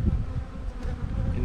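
Honeybees being shaken out into a hive, a dense, steady buzzing swarm held close and continuous throughout without a break.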